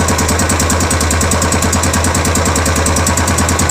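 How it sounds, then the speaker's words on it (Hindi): A Royal Enfield 350 BS6 motorcycle engine idles steadily and loudly up close, its even, rapid thumping pulse carrying a slight extra mechanical noise over a constant drone. "यहाँ पर हल्का साउंड सुनने में आ रहा होगा आपको।"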